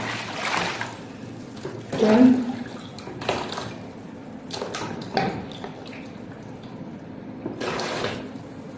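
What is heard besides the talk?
water being poured for measuring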